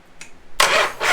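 Shovelhead motorcycle engine cranking over on the electric starter, a short faint click followed by a sudden loud whirring churn that continues to the end, close by.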